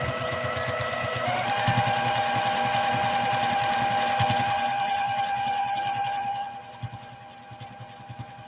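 A sewing machine stitches a fancy shopping bag in a steady, fast, close whirring run, then stops and leaves a few soft isolated clicks.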